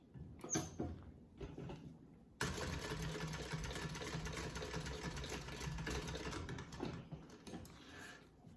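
A sewing machine stitches elastic onto a small men's wallet, starting with a few short bursts and a back stitch, then running in one steady, even stretch before slowing and stopping, alone without talk.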